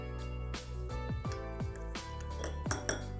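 A spoon clinks repeatedly against a bowl as chia seeds are scooped, several light metallic taps spaced about half a second apart, close and fairly quiet.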